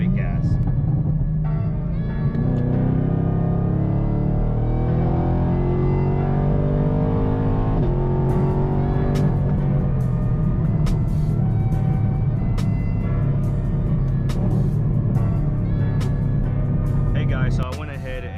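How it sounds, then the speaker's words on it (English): The engine of a 2019 Camaro 2SS rumbles and accelerates steadily after a launch, a loud, close drone rising in pitch, with a few clicks and a sudden cutoff near the end; talk is faintly present. "from there it drops all of your gears and you can just give it gas"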